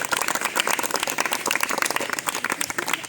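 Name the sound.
students clapping hands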